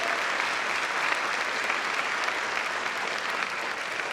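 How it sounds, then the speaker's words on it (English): Steady applause from a crowd at a school district Teacher of the Year celebration, dense and even throughout, with no voices standing out above the clapping. "Let's give them a round of applause."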